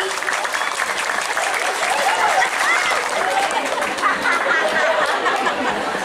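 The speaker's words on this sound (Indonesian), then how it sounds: "Santri, tepuk tangan dulu dong buat santri." An audience at an Islamic religious talk applauds for Islamic boarding-school students, loud sustained clapping from a large crowd mixed with some chatter and light laughter.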